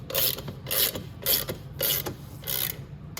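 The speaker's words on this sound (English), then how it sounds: "I want to go ahead and tighten this axle down. So I'm going to have to hold with my 17 on the other side." A wrench ratchets in repeated bursts while tightening the front axle nut on a Venom x22 125cc motorcycle, about five rhythmic clicking strokes close up with short pauses between them.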